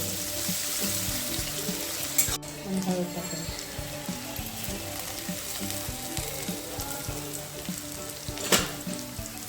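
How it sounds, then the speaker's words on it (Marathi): Chopped onion sautéing in hot oil in a pan for cucumber zunka, a steady close sizzle with a sharp clatter near the start and a second one later, and a faint voice in the background. "कांदा टाकला त्यामध्ये कांदा चांगला परतून घ्यायचा मस्त"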